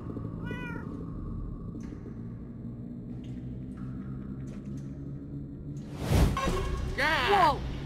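Cats in Minecraft Story Mode give a short meow early on, then a louder burst of several meows later, over a quiet in-game background hum.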